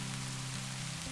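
Steady rain falls outside, a constant hiss of drops on surfaces that stays even throughout, with a low hum beneath and no voices.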